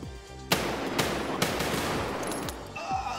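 Single shots from a 5.56x45 mm carbine in Escape From Tarkov, a loud sharp report roughly every half second, five or six in a steady semi-automatic rhythm over a dense battle soundscape with other distant gunfire.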